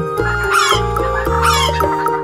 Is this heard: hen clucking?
yes